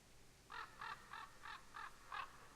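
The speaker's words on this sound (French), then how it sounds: "Et t'entends l'oiseau, au fond." A crow in a medieval game setting caws six times in an even, measured rhythm, faint and distant in the background with no speech over it.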